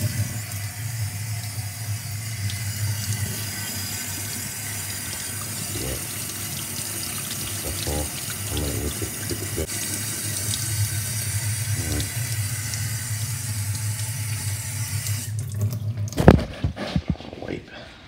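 Water runs steadily over etched glass for a rinse, a constant close splash and hiss with a few faint knocks and handling sounds mixed in, ending in a short burst of louder clatter.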